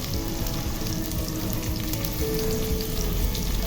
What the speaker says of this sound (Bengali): পেঁয়াজ রসুনটা কিছুক্ষণ ভাজা ভাজা হওয়ার পরে এখন আমি গুঁড়া মশলা দিয়ে দিচ্ছি।